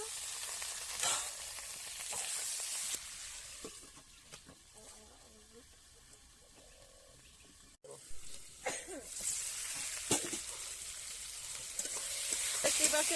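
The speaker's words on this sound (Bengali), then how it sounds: "এবার কেটে রাখা টমেটোগুলো দিয়ে দেব" Chopped tomatoes frying in a pan for egg curry, a continuous close hissing sizzle that softens in the middle and then flares louder again with stirring scrapes.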